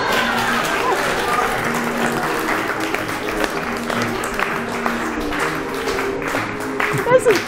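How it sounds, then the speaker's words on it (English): An audience at an evening performance claps along in a steady rhythm, the applause sustained throughout while voices talk over it nearby. "All right, clap along, everyone."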